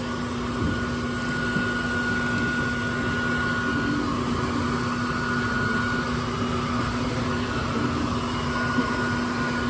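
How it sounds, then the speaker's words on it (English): Steady vacuum drone outside a shed during a bee removal, a continuous motor hum with a whining tone that stays level and unbroken throughout, with no talking. "So we always come out here, vacuum up this portion of the bees too."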